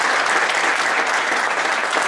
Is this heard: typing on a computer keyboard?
no